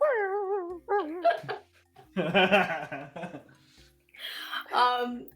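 A person imitates a dog's whimper with a series of short, high, wavering whines broken by pauses, close up and fairly loud.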